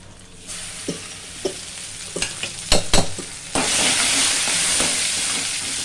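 Dried red chillies are added to hot oil and fry with a few light utensil taps and stirs, then a steady, louder sizzle surges and continues close by.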